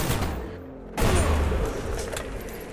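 Gunfire against zombies in the Call of the Dead video game gives a dense, continuous fusillade of shots with a sharp burst near the start, loud and close, with no talk.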